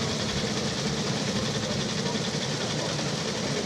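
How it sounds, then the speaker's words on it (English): A vintage 225cc Royal Enfield motorcycle engine runs steadily at a club run start, a continuous broadband rumble with a fast low pulsing idle, loud and close amid general outdoor noise. "Number 18 on a 250 Royal Enfield."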